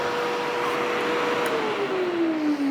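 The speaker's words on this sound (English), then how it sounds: "I'm just going to hold it for a second, let it vacuum out, let it clear out that hose" Bissell HydroSteam carpet cleaner held running to suck water out of its hose, a steady close whooshing suction roar with a faint whine that drops slightly in pitch near the end, no talk.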